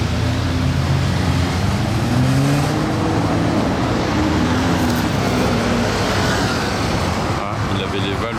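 Ferrari California T, an engine that hums and rises in pitch through a few revs, with voices and general street noise around it.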